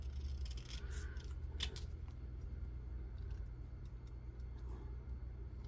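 Scissors snip through paper while trimming a piece out of a collage tag, several quick close cuts clustered early on, over a low rumbling background.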